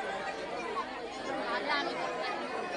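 Crowd chatter fills a packed temple, a dense, close murmur of many overlapping voices that stays steady and loud.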